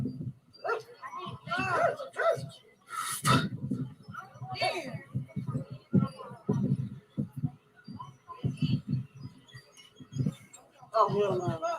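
A dog barks and yips in short bursts among excited human talk and laughter, the barks close and irregular, mixed in with the overlapping voices.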